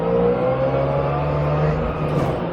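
A Trabant car accelerates from a standstill toward 60, its engine holding a steady, loud, continuous drone throughout with a faint voice briefly in the background.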